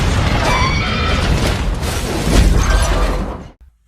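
A loud, rumbling bomb blast with crackling debris and a swelling roar that cuts off abruptly at the end.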